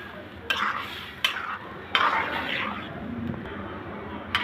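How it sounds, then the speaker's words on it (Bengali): A spoon stirs taro stolon batter into a cooked paste in a pan, giving a thick, wet scraping with a few sharp metallic knocks against the pan's side, close and steady, with no talk. "দিয়ে ভালো করে নেড়ে নিব।"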